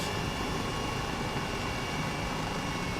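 A simulated Airbus H135 police helicopter in a flight simulator game gives off a steady, even turbine and rotor drone, faint and unchanging, with no talking.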